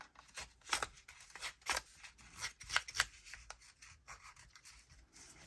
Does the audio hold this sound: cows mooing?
no